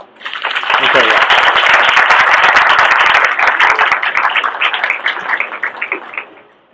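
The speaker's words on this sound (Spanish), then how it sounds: "Le damos las gracias, de nuevo aplausos." Audience applause following a university lecture on Augustus, dense clapping rising quickly and sustained at full strength before thinning into scattered claps and fading out.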